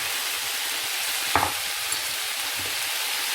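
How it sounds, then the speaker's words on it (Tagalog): A bacon and potato frittata mixture is stirred in a hot pan, with a brief scraping clatter of the utensil over a steady faint sizzle. "Just mix everything."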